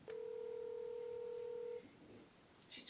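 A telephone being dialed to call a sister: one steady, loud dial tone for nearly two seconds, then quiet room noise.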